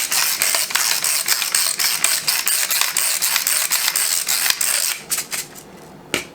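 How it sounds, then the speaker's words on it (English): A hand pepper grinder cranks in quick repeated ratcheting clicks, close and crisp with a steady rhythm for several seconds before slowing to a few final turns; no voices. "I'm going to put just salt and pepper to taste, so I'm just going to give a few cranks here."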